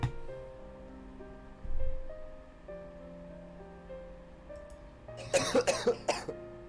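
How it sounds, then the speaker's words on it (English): A short burst of several coughs near the end, following a quiet stretch with soft ambient music underneath. "Hey, coughing sound effects."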